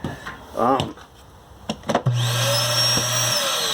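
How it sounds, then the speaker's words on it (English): A built-in central vacuum in a 2020 Crossroads Cruiser 3391RL travel trailer switches on after a few knocks and clicks, then runs with a steady, close, loud motor drone and a high whine for the last second and a half. "This right inside the door is your vacuum."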